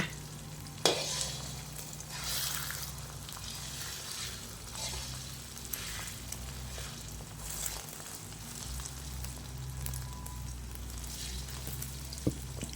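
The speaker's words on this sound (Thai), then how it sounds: "เทไข่ใส่ลงไปเลยจ้า รอให้ไข่เซตตัวนะคะ" Beaten eggs, two of them, hit a hot pan in a home stir-fry of glass noodles with cabbage and sizzle steadily, an even close frying hiss with a few soft clicks from the utensil.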